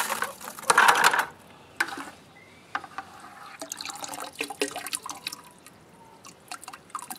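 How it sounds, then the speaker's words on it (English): Water splashing and dripping as beeswax chunks are rinsed in a bucket outdoors, with an opening burst of pouring followed by scattered drips and small trickles, close by and with no talking. "After that feels like it's rinsed off, then I transfer it to an empty bucket for another rinse."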